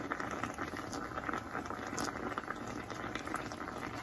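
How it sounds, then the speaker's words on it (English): Deer backstrap meat sizzles and crackles steadily in a hot pan, a soft, continuous spitting hiss with no talking. "finish frying this on up"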